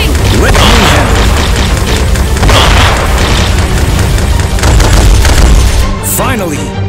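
Dense, loud gunfire and booming explosions from the Elevator Action Invasion arcade game pound without pause, layered with game voices shouting over the barrage.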